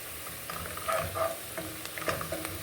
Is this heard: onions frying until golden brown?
yes